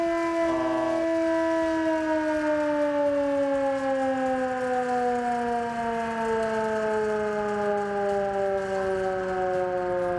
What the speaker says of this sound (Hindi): सायरन इसलिए बजाया जा रहा है ताकि लोगों को आगाह किया जा सके